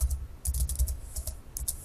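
Quick bursts of typing on a computer keyboard, close and fairly loud, with keys clacking in short uneven clusters and small pauses between them.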